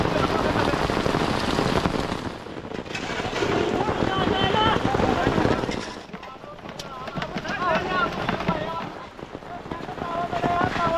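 Steady heavy monsoon rain patters on surfaces at a building site during a concrete roof slab pour, a dense hiss of drops, while people talk intermittently nearby over it.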